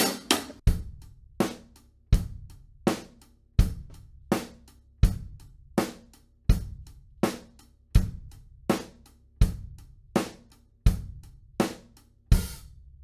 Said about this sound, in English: accent the downbeats on the hi-hat